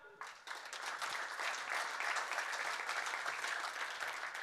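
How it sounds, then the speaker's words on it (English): An audience at an international field hockey federation event gives a modest round of applause after a sport coordinator is introduced. The clapping builds quickly after a brief sound at the start and then holds as a steady, moderate patter. "Not such a big applause."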